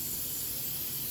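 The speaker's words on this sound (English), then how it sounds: "I'm going to spray my pan." Butter-flavored cooking spray hisses from a can onto a pan in one steady, close burst lasting about a second, alone with no talk.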